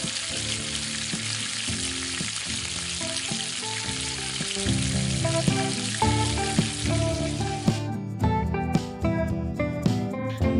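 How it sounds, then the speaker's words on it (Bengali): Cabbage pakoras deep-frying in hot white oil in a kadai, a dense, steady bubbling sizzle close up, with background music playing throughout and no talking. "এখন পকোড়াগুলোকে এক এক করে তেলে ভেজে নেব।"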